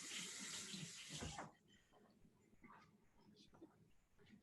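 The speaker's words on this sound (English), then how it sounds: "I need to wash my hands, sorry." Hands washed under a running kitchen tap while making homemade salsa, a loud steady water rush that cuts off after about a second and a half, leaving quiet handling noises.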